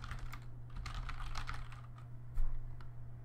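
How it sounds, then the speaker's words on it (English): Light, rapid keystrokes tap on a computer keyboard as a password is entered, quiet and close, with a slightly louder key press near the end over a faint steady hum. "type in the password and click send"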